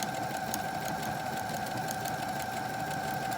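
A sewing machine stitches along a fabric edge with the presser foot while a pillow is being sewn, giving a quiet, steady whirring hum with a fast, even mechanical pulse.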